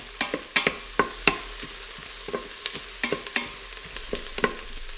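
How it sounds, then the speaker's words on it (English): A flat wooden spoon scrapes the bottom of an Instant Pot while white chicken chili cooks, making a close series of short, uneven scraping strokes with brief pauses and no talk. "You'll want to use a flat wooden spoon or a silicone scraper, and you're gonna wanna scrape those up"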